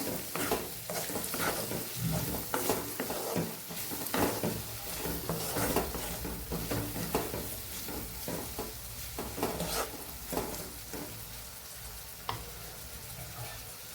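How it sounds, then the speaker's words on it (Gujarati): Capsicum sautéing with turmeric, coriander-cumin and red chilli powder in a pan, a dense continuous sizzle with rhythmic spoon scraping and stirring throughout, close and steady with no talking. "1 ચમચી જેટલું લાલ મરચું પાવડર, બધું સરસ મિક્સ કરી અને સાતળી લેવાનું છે"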